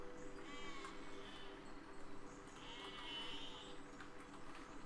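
Sheep bleating in the physics building game Besiege, a few thin cries rising over a steady busy game background, fairly faint and no talking.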